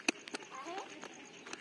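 A pet myna bird gives a short run of chirpy, whistling calls at close range in a quiet remote area of Jharkhand, with a few soft clicks and rustles around it.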